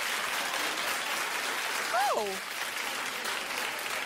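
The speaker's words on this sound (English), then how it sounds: "Clap if you have a better side." A television studio audience claps steadily throughout, a broad wash of applause at a studio talk show, with one brief voice exclaiming partway through.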